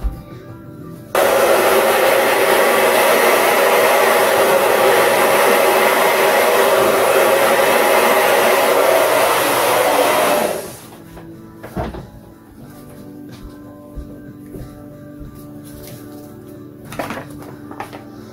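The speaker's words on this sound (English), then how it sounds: "Now let's get the hairdryer back out." A hair dryer blows loud and steady close by for about ten seconds over acrylic pour paint, then cuts off, leaving quiet room noise and a few light knocks.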